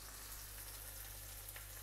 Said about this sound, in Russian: Курочку продолжаем жарить.